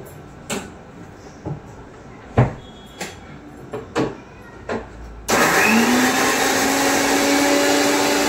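A kitchen mixer grinder blending washed green chillies starts after several scattered knocks and clunks, then runs as a loud, steady whirring roar to the end.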